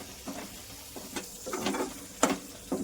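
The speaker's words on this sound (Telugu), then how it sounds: "చూడండి, ఏగుతుందండి. పక్కకి ఆయిల్ వస్తుంది." Fish for a spicy gravy fish fry sizzles in hot oil, with several brief bursts of spatter and stirring scrapes over a low, steady frying hiss.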